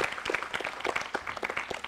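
An audience at a Tamil television special claps, a brief spell of uneven, moderately loud applause with individual hand claps standing out.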